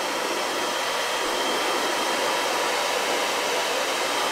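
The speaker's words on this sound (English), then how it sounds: "A few seconds with the blow dryer, and this thing is tight." A hair blow dryer runs steadily and loudly at close range, heating the shrink seal on a bottle cap, a constant broadband whoosh with no pauses and no talk.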